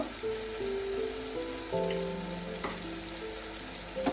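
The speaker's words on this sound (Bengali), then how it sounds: "গুঁড়ো মশলাটা দিয়ে কষিয়ে নিলাম। দেখুন বন্ধুরা কি সুন্দর তেল ছেড়ে দিয়েছে।" Ground spices frying in oil in a pan for a Bengali mung dal dhokar dalna, giving a quiet, steady sizzle close up, with soft sustained musical tones playing underneath.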